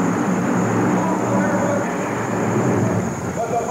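Rocket Chevy monster truck engine roaring at full throttle at the 1990 USHRA World Finals in Rosemont, Illinois, a steady loud broadband drone throughout with a thick low rumble, heard alone with no talk.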